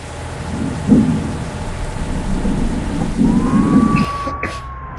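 In the video game Bus Simulator, steady rain hisses while low thunder rumbles roll in twice, followed by a thin sustained tone near the end.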